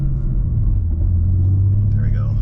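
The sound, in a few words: BMW M3 G80 1-2 gear change while accelerating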